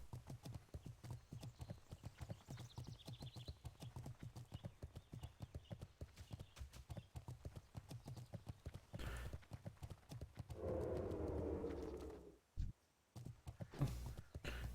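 Horse mount hooves in World of Warcraft clip-clop in a quick, steady trot, close and clear, with a brief burst of other game noise near the end.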